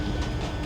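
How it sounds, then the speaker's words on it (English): Interior of a moving ScotRail train carriage, a steady, fairly loud low rumble with a faint constant hum and no distinct clicks, with no voices. "We're in the train now"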